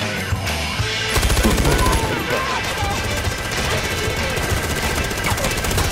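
Automatic gunfire rattles in Far Cry 4, a fast continuous burst of shots loudest near the start and then steady background chatter of game sounds, with a voice talking over it.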